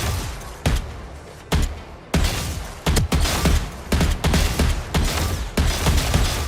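Gunfire in a video game, triggered by clicks on an Attack Shark R1 mouse: loud, close bursts of shots repeat at a fairly regular pace with short gaps between them.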